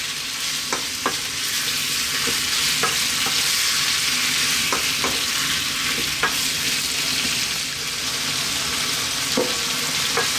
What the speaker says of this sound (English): Staying on this heat about another 3 or 4 minutes. Give it a stir every now and then.